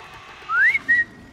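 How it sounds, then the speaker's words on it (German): A character in the video game Horizon Zero Dawn gives a short two-note whistle, a rising tone followed by a brief level one, clear and alone. "Warum pfeife ich eigentlich?"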